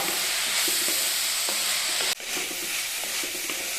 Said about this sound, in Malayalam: ഇതാദ്യം നന്നായിട്ടൊന്ന് വഴന്ന് വരട്ടെ കേട്ടോ